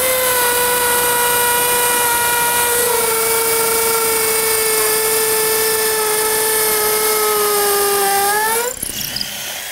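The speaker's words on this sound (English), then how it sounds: "this DeWalt is amazing. It has an impact hammer drill on it and at high speed." DeWalt impact hammer drill spinning at high speed to drive a Tapcon screw, a steady loud whine that sags slightly in pitch before cutting off abruptly near the end.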